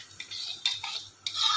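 Spices and two bay leaves are stirred in hot oil in a pan while cooking khichuri and fried sides, giving three short, close scraping strokes of a spoon against the pan, quiet and alone.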